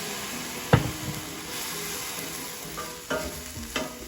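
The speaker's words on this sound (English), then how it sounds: "I'm gonna add a little bit more stock before I put in the garlic." Stock hits a hot pan of plant-based penne alfredo with a burst of sizzling, settling into a steady close fry with occasional stirring scrapes and fresh hisses.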